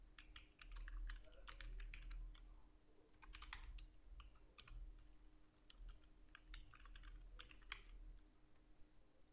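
Keys on a computer keyboard are typed in quick bursts of clicks with short pauses between them, close and fairly quiet, with no voices.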